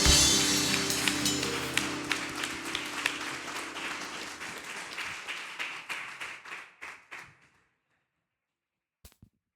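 Church congregation at a Sunday service applauding, a loud burst of many hands that thins into scattered, slowing claps and fades out, followed by silence and a couple of faint late claps.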